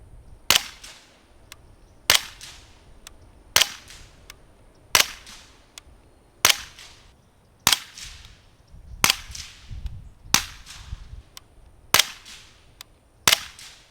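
A suppressed Smith & Wesson FPC folding carbine fires subsonic 150-grain Federal Syntec rounds, ten sharp, fairly muted cracks spaced about a second and a half apart, each with a short fading tail.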